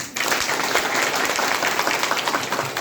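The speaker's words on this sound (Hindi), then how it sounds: "एक जोरदार ताली होना चाहिए" Loud applause from an audience at a gathering, with dense, vigorous clapping starting abruptly and holding steady throughout, close and energetic.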